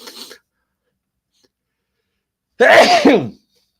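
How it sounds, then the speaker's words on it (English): A single close, loud sneeze breaks a near-silence, preceded by a brief faint breath or sound at the start. "I'm going to sneeze."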